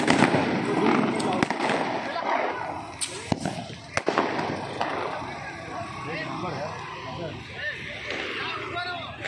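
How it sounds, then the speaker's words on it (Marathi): Sharp Diwali firecracker bangs and crackling pops burst out intermittently amid a noisy crowd in Airoli, with people talking throughout. "म्हणजे फटाके बघायला भेटले आपल्याला"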